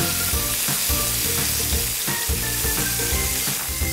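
Food sizzles loudly and steadily on a hot grill, a dense continuous crackle with faint tonal sounds underneath and no talking.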